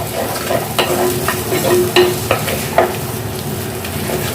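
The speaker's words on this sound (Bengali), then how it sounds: "এবার আমি মশলাটা দিয়ে দিলাম, গুলে মশলাটা একটু ভেজে নিতে হবে ভালো করে।" Spice paste and onions fry in a pan for a South Indian-style chana, giving a steady close sizzle with repeated scraping stirs of a spoon. No one speaks.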